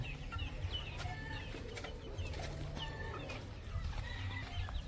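Several chickens cluck and chatter nearby on a farm, with scattered higher bird calls over a low rumbling background.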